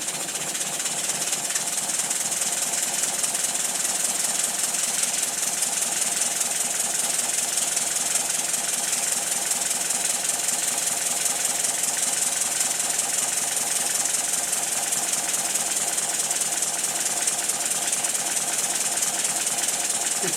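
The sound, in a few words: twin Tangye steam engine running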